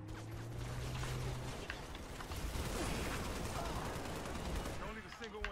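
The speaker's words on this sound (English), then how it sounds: "I'm under fire." Gunfire in a video game: dense, rapid bursts and crackling shots mixed with mechanical clatter, continuing at an even level throughout.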